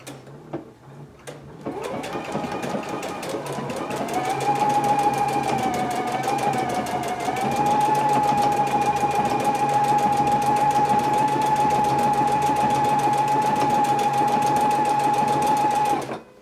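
A Husqvarna Viking Epic 980Q sewing machine runs steadily while stitching a hem, a close, continuous whirring drone that holds for most of the stretch before stopping abruptly.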